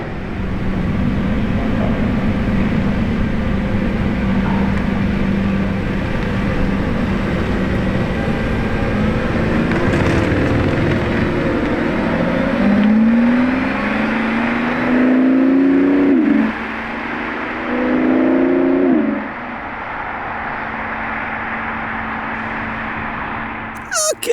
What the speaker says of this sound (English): Take a good listen to the engine here.